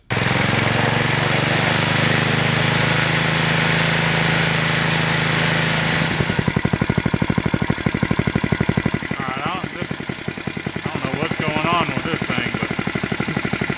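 A small engine runs steadily at a fast idle, then its note shifts to a rougher, pulsing idle partway through, close and loud, with someone talking over it near the end.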